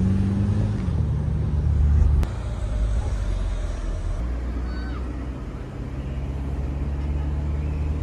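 A sports car driving with its roof open gives a steady, loud engine and road rumble throughout, close to the listener.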